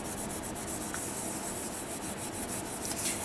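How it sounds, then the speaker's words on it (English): A piece of paper is rubbed over a polymer clay surface to burnish and smooth it, giving a continuous soft, papery rubbing with quick back-and-forth strokes, close and alone. "just take a piece of paper and burnish that so that it's nice and smoothed out"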